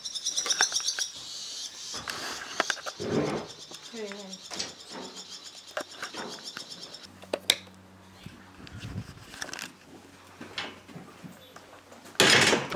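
A bird nesting in a horse stall gives several quick chirps amid rustling, clattering stable noises and a few brief thumps, with faint voices now and then.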